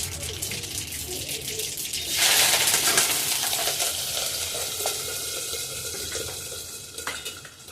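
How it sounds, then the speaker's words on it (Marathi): Mustard seeds dropped into hot oil for a poha breakfast burst into a loud, steady sizzle and crackle close by, continuing without voices. "मोहरी तेल तापलेलं आहे, मोहरी टाकते."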